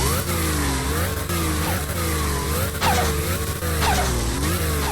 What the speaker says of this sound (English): Rev did a really good job of making the sounds for this car